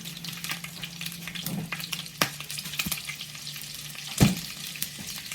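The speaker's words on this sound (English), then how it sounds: "I'm putting about a quarter stick of butter in there just for flavor" Butter sizzles and fries in a hot pan while a hamburger gravy is being made, a steady close crackle with a few sharp clicks and knocks of utensils against the pan.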